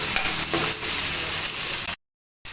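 Green turkey berries (sundakkai) fry in a pan while being stirred for a tamarind kulambu. A loud, close sizzle with light stirring scrapes cuts out into silence for half a second, then the sizzle resumes.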